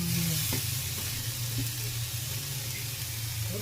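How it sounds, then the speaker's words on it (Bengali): Grated coconut cooks in a kadai with a soft steady sizzle and occasional stirring scrapes, fairly quiet and close, with no talking. "একটা কড়াই বসিয়েছি, এবার নারকেলগুলো সব দিয়ে দিয়েছি"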